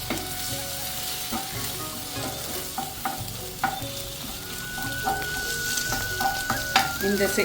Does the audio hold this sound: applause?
no